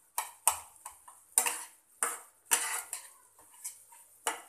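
Semolina halwa is stirred and roasted in plenty of ghee in a pan, with a spoon scraping and clinking against the metal in irregular close strokes, separated by short quiet gaps.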